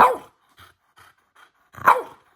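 A dog gives two loud barks about two seconds apart, with a few faint yips or whines between them, close by.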